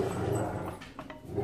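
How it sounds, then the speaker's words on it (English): A dog barks and growls in short, muffled bursts somewhere in the room, faint against a steady low background hum. "We have a dog barking."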